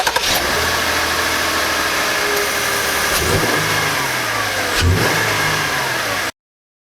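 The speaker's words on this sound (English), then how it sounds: "now we'll have a listen to the engine startup sound" A Jeep Grand Cherokee engine runs steadily and loud up close, with a couple of brief revs rising over a continuous mechanical drone before it cuts off abruptly.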